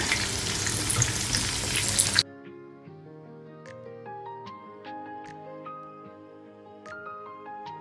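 Chicken pieces deep frying in hot oil for Kerala-style chicken kondattam give a loud, dense crackling sizzle for about two seconds, then cut to soft melodic music.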